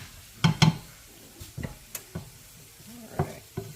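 Jambalaya ingredients sautéing in a pan, stirred with sharp scraping clacks and rustling bursts over a low sizzle, several strokes spaced irregularly and close up.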